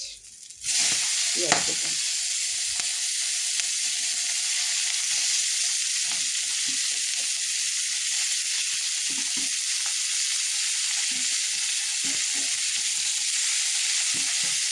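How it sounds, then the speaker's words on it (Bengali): Cumin seeds, a bay leaf, dried chilli and raw onion fry in hot oil for fish-head mung dal, a steady loud sizzle with occasional stirring scrapes, no talk. "সব ভালো করে ভেজে নেব।"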